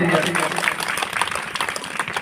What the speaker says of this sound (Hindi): इनको एक बार जोरदार तालियों के साथ में स्वागत होना चाहिए।